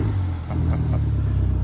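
A 300hp Mini R55 Clubman race car engine drones steadily on track, a low continuous rumble heard from inside with no talking.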